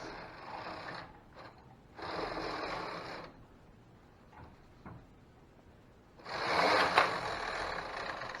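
Knitting machine carriage slid across the needle bed by hand, a quiet mechanical whirring rasp in three separate passes, the last one loudest, with short pauses between.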